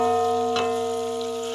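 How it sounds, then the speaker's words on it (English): Smoked sausage browning in a frying pan gives a steady, close sizzle under a constant electric hum, with a brief rustle of movement partway through. "I added the smoked sausage in there because I like to brown my smoked sausage too"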